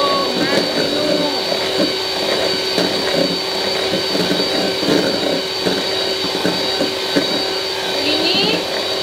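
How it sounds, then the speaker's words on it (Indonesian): An electric hand mixer whirs steadily at high speed, beating cake batter in a home kitchen. The motor's whine is fairly loud and close, with faint rattling from the beaters against the bowl. "Ini lagi ngocok ini kecepatannya tinggi ya DP mixer"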